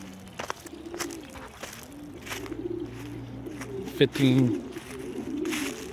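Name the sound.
pigeons cooing in a pigeon loft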